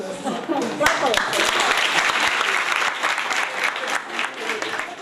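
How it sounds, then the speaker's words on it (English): A classroom of students claps for the top students, brisk uneven applause with sharp individual claps standing out, some voices mixed in beneath, continuing throughout. "Clap for them."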